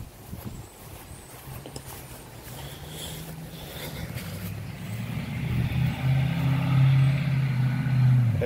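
A 1987 Ford Mustang GT pulling away, a low engine rumble that grows louder and stronger over several seconds as the car drives off outdoors.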